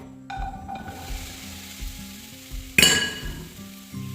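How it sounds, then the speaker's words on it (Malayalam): Green plantain pieces drop into a hot pan with coconut oil and spices, setting off a crackling sizzle, with light metal clinks from stirring and one louder clatter partway through. "അത് നമുക്ക് ചൂടായ പാത്രത്തിലേക്ക് പച്ചക്കായ ഇടാം."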